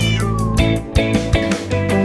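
Cat meows within a French children's song, set against sung melody and string instruments, several short mewing calls riding on loud continuous music throughout.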